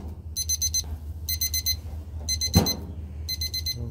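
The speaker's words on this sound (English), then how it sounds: "At 360, it's gonna beep." An oven's preheat beeper set to 360 degrees sounds in four clear bursts of rapid electronic beeps, evenly spaced over steady kitchen hum, with a sharp knock just before the final burst.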